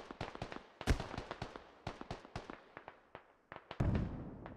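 Artillery fire in the tactical shooter game Squad, a rapid cluster of sharp distant bangs and crackling impacts with uneven spacing and a heavier boom near the end, faint and alone.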